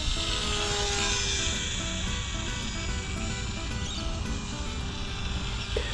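RC plane carrying a small action camera in flight: a steady high whine from the electric motor and propeller under a constant wind rush, heard close and continuous, with no talking.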